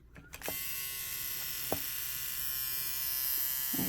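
A loud, steady motorized buzz from an analog permanent makeup machine runs continuously, with a few sharp clicks near the start and a brief tap partway through.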